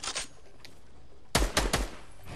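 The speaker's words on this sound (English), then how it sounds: "Are you just shooting at bots?" Gunfire in a video game shooting at bots: a short burst early on, then a loud cluster of three or four sharp shots near the end, close and punchy with no talk over them.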